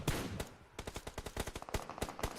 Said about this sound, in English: we're hearing a lot of gunshots indeed around